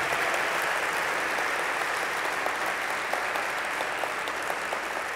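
An audience applauding at an awards ceremony, dense sustained clapping that stays loud and even throughout, with no voices standing out.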